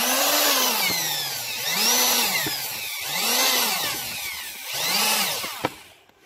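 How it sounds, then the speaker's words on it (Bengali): An electric drill machine powered by an inverter spins up and winds down four times in a row, its motor whine rising and falling in pitch, loud and close, ending with a sharp click. "এবং আমরা ড্রিল মেশিনটি চালিয়ে দেখাই।"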